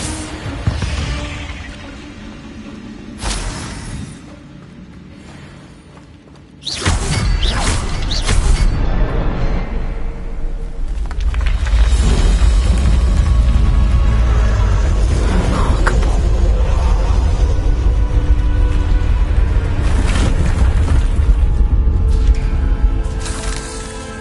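Incendio fire spell cast in a Harry Potter–style video game, a sudden loud whooshing burst that swells into a sustained roaring, crackling rush of flame after a quieter stretch of game ambience.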